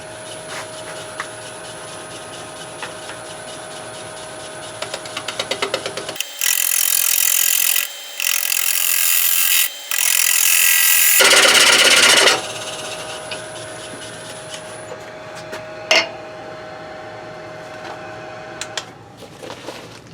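A wood lathe turns an American beech bowl blank while a tool cuts it toward round, giving a loud, rough scraping rasp in bursts of several seconds over a steady motor hum, then falling back to the quieter hum.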